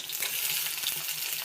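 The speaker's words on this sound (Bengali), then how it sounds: "ছাকা তেলে এইভাবে একটু সময় নিয়ে উল্টে পাল্টে একটু ভেজে নিতে হবে।" Fritters (bora) sizzle in hot deep oil with a steady bright crackle and hiss, broken by a few soft stirring scrapes, close and continuous.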